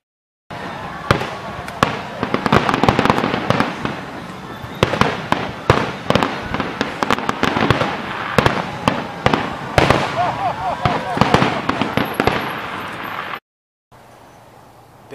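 Canada Day fireworks over Lake Okanagan in Vernon: a dense, continuous barrage of booms and sharp crackling bursts, loud and fairly close for over ten seconds, with crowd noise mixed in before it cuts to quieter ambience.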